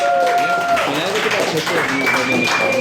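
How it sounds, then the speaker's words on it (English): An audience at a comedy night in a small venue clapping along, a dense patter of handclaps under a loud, tonal whistle or feedback-like ring and raised voices. "everybody start clapping. Clapping your freaking hands, please."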